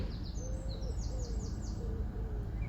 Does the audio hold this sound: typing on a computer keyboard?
no